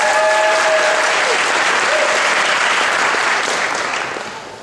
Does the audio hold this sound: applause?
yes